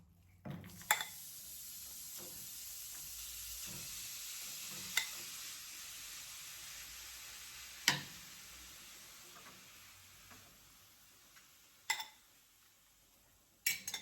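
Beef frying in melted butter gives a quiet, steady sizzle, broken by a few sharp clicks and knocks of a utensil against the pan.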